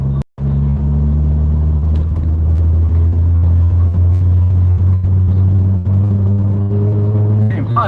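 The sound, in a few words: car driving on road, tyres gripping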